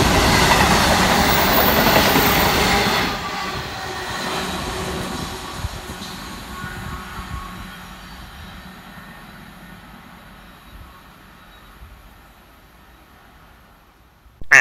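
East Midlands Railway Class 222 Meridian express, unit 222006, running from Sheffield to London St Pancras, races non-stop through Belper station: a loud rushing roar at the start that fades steadily into the distance, with no voices.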